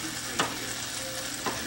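Spices and aromatics fry in a hot pan for an Indian tomato dal, a close, steady sizzle with two short scraping stirs, no voices.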